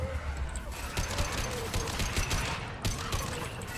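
Rapid gunfire from a firefight in Mass Effect 2 sounds as dense bursts of crackling shots and impacts, steady and fairly loud, with a voice talking over the action.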